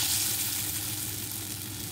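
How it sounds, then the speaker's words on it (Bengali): Pea lentil fritters fry in hot oil in a wok, giving a steady, close, dense sizzle that holds evenly throughout with no talking. "মটর ডালের বড়াগুলো ভেজে নেব।"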